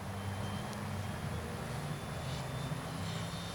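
A Freewing F-22 RC jet cruises slowly past with landing flaps extended, its ducted-fan engine making a steady, moderately loud whoosh and drone that stays even across the whole stretch, with no voices.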